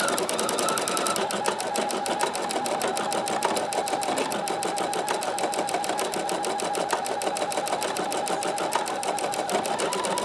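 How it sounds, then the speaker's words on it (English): An embroidery machine stitches a freestanding embroidery pattern with a loud, steady, rapid mechanical whirr and needle chatter that continues without a break. "And now we're stitching the pattern on."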